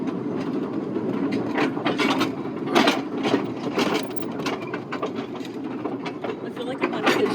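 A mine train amusement ride rolling along its rails with a continuous rumbling clatter and quick rhythmic clicks, steady and fairly close, as if heard by a rider.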